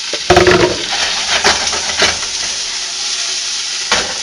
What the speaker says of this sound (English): So when you add your vegetables, you're going to hear the sizzle.